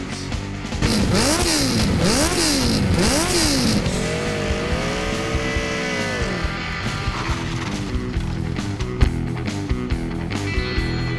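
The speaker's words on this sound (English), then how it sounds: "Rev up your engines!" A car engine revs hard in an intro sting, rising and falling in rapid sweeping pulls before settling into a long sustained drone with scattered mechanical clanks, loud and close throughout.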